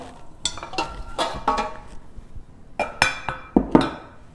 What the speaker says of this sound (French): on va maintenant mettre notre viande dans la casserole